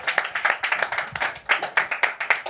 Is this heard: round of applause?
yes